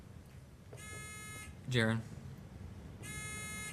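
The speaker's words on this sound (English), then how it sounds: "test your buzzers" Two electronic quiz buzzer tones sound a couple of seconds apart during a quiz bowl buzzer test, with a short loud burst and a spoken name between them.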